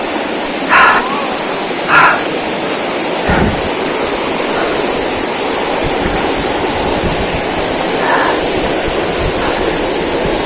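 A strong river current rushes loudly and steadily on a hike toward a waterfall in General Nakar, Quezon, a dense broadband roar with a few faint brief knocks over it.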